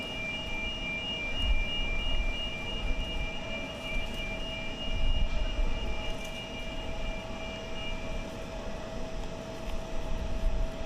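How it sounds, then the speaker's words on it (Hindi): The Indian Prime Minister's jet lands in Israel, a steady, distant roar of jet engines sustained throughout with broad rumbling noise and faint whining tones, and no voices. "आप देख सकते हैं प्रधानमंत्री नरेंद्र मोदी का विमान पहुंच चुका है"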